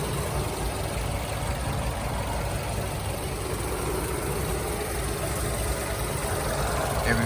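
A 2011 Mazda6 iSport with a V6 engine idles in a steady, even drone that holds at a constant level for the full seven seconds, with no voices over it.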